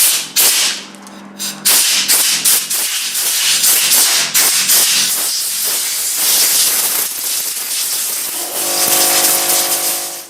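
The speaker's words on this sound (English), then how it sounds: "take my air compressor and just remove the residual" An air compressor's nozzle blows compressed air in a series of sharp hissing bursts, cleaning residue from the disassembled parts of a Mossberg 500 shotgun, with short pauses between blasts.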